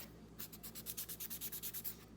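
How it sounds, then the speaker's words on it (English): Acrylic gel nails being filed down with a handheld nail file, a quick series of about a dozen rhythmic rasping strokes, close and fairly quiet, with no talking. "I just sand them down with this nail filer"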